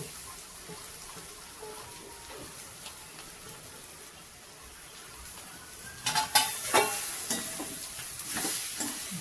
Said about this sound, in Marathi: कारले टाकून घेऊ